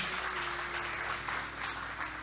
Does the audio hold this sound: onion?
no